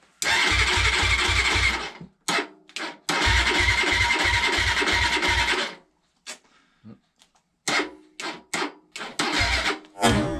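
A Suzuki DR 125 motorcycle's electric starter cranks the engine in two long rapid-chugging bursts, then a string of short stabs on the starter with gaps between, close and loud.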